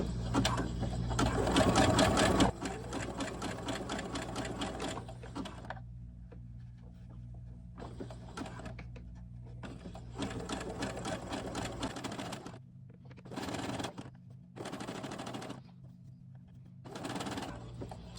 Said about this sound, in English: we're going to get us a zigzag here. That way it'll stretch.